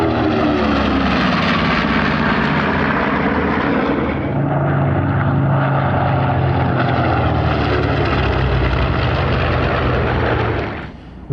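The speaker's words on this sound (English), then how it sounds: "our B-25 comes in from your airshow run and getting set up on an attack run, the first of its attack runs on an enemy airfield" North American B-25 bomber, a PBJ variant, making a low attack run at a Truckee Tahoe airshow, its twin radial piston engines roaring loudly and steadily with a deep propeller drone throughout before cutting off abruptly at the end.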